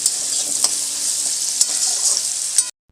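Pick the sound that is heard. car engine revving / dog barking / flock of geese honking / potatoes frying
potatoes frying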